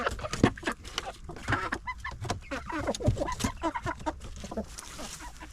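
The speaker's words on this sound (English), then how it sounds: "Man, this chicken that was mean has lost almost all of its feathers." Backyard chickens, including grown young hens and one nearly featherless bird, cluck and squawk in short irregular bursts close by as they are let out onto the grass.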